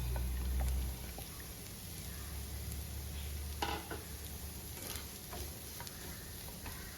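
Chicken pieces for a Kerala-style irachi pathiri filling sizzle quietly in a frying pan, a steady low crackle with a few soft stirring scrapes and no voices.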